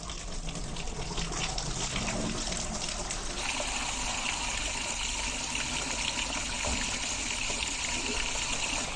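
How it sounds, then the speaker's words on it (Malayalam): Water rushes and trickles steadily as it drains through an aquaponics siphon, a continuous gurgling flow with no voices. "ആ പ്രഷറിൽ വെള്ളം മുഴുവനായി വാർന്നു പോകുന്ന രീതിയിലാണ് ഇത് സെറ്റ് ചെയ്തിട്ടുള്ളത്"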